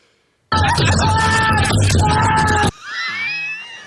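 A man screams loudly in pain on a played video, a sustained harsh yell over clattering noise that cuts off abruptly, followed by quieter sound.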